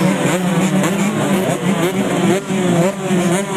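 125 cc motocross bikes race on a dirt track in a loud, continuous engine roar that rises and falls as they rev hard, close and dense throughout.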